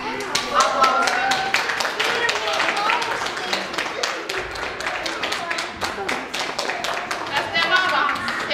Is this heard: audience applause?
yes